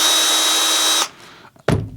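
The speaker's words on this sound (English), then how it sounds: "One makes the drill turn slow. So if we've got it on 1, let's go full pelt." A power drill whirs loudly at its slow speed setting 1 for about a second, a steady high motor whine that stops abruptly, followed by a brief clunk of handling.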